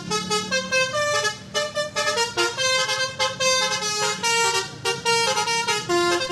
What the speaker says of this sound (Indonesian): Nah, sekarang bunyinya jadi kayak gini.